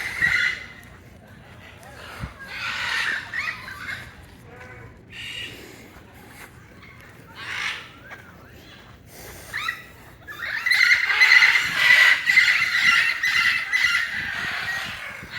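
Loud, raucous macaw calls and squawks burst out repeatedly on a beach, growing into a dense, shrill chorus near the end.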